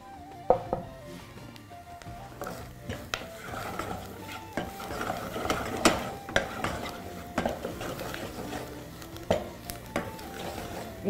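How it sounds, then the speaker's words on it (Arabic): Flour being stirred into onions in a cooking pan, with spoon scrapes and clanks against the pan over a soft sizzle, an irregular run of close taps and knocks. "ونقلب بقى كده. واخلي الدقيق لونه يتغير شويه مع البصل،"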